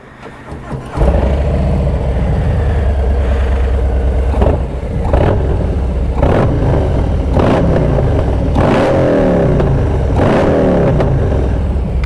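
A Harley-Davidson motorcycle engine starts up and then runs loud and close on a ride, with a deep rumble and repeated throttle swells that rise and fall in pitch.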